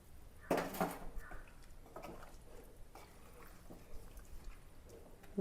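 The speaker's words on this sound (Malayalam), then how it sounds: "അല്പം ചൂടുവെള്ളം ഒഴിച്ചു കൊടുക്കാം" Hot water goes into a pot of chicken and potato curry with a clatter of a pan and utensil, a short splash and pour, then quieter drips and light knocks close by.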